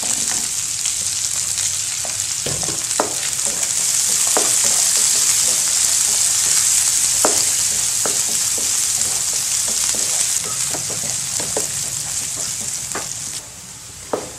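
Dried red chilli, curry leaves, onion and garlic fry in hot oil for a Tamil kuzhambu, giving a loud, steady sizzle throughout, broken by occasional sharp spoon scrapes and taps against the pan.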